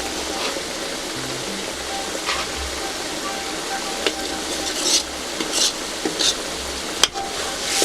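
A ladle stirs egg gravy in a pan, scraping and sizzling steadily with occasional louder clinks near the end, close and continuous.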